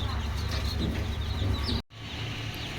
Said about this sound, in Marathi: ओरिजिनल गावठी कोंबडीची पिल्लं आहेत